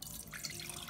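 Water tipped from a bowl into a cooking pot while making a pear, ginger and honey cough remedy: a faint, brief trickle and splash, close by, with no talk.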